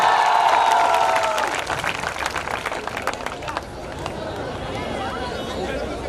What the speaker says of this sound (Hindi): एक बार जोरदार तालियों से जिनका स्वागत